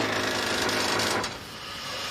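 A drill bores into the rebar-laden concrete core wall of the Ocean Tower, giving a steady, loud grinding whine that cuts off partway through, leaving a quieter mechanical hum.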